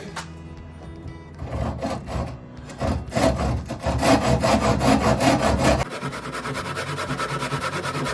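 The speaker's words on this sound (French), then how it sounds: "Et je vais passer une égoïne." A hand saw rasps steadily through wood in quick back-and-forth strokes, loud and close, while making a Windsor stool, with the rhythm shifting to a faster, lighter stroke near the end.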